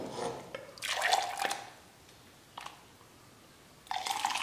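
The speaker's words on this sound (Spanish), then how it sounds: "ahora sí vamos a servirnos una buena taza" Thick peanut champurrado atole poured into a cup, heard as a few short close splashing and dripping bursts separated by quiet gaps.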